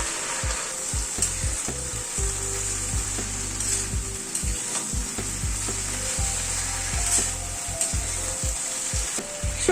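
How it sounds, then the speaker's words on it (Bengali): White mustard paste, loosened with a little water, sizzling in a pan for a roti sabji, with steady frying hiss and repeated scraping strokes of a spatula stirring it, close and alone. "এবার যে সাদা সর্ষেটা পেস্ট করে রেখেছি সেটা দিয়ে দিচ্ছি"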